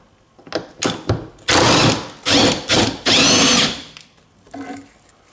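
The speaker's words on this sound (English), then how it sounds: "also I use now impact driver that this part opens easily" An impact driver loosens a fuel tank bolt on a Toyota Corolla in several loud, close bursts of rattling hammering, each a second or so long, separated by brief pauses.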